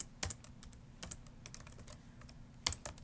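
Typing on a computer keyboard: a faint, irregular patter of light key clicks close by, a few sharper taps standing out, with quiet gaps between bursts.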